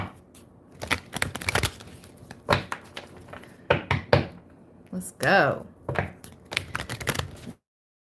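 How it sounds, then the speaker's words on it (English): Cards in a tarot deck are shuffled in quick, crisp bursts of riffling and flicking, scattered across the whole stretch with brief pauses, while a voice speaks briefly between the shuffles. "Let me shuffle these cards out and pick a new deck"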